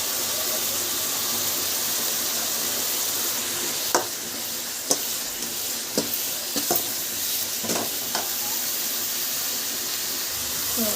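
Curry leaves, garlic and onion sautéing in a pan in a village kitchen, a steady close sizzle and hiss with a few sharp scrapes and knocks of a spatula against the pan.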